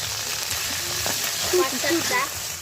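Chopped garlic and green chili with curry leaf sizzle in hot oil, a steady close frying hiss with brief stirring scrapes and faint voice fragments.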